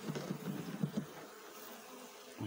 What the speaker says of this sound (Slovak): Včelky tak tu pekne vidno, ukáž.